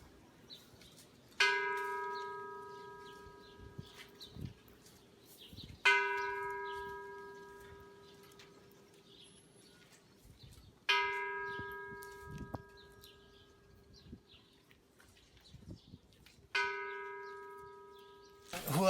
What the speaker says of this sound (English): they can ring the bell one after another